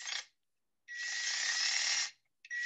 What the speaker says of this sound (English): You don't want to heat up the drill. And I'm backing it out.